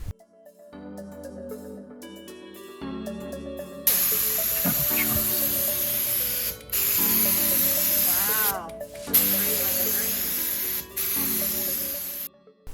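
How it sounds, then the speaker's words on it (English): An HVLP spray gun lays water-based bonding primer onto furniture during a glossy paint makeover, a steady loud hiss running for several seconds with brief breaks between passes, over quiet background music. "it's going to go through my HVLP spray gun really well"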